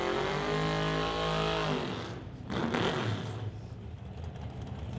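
A drag-racing Chevelle at a track event screams past loud and close with a rising engine whine, then its roar fades and mixes with broadband track noise.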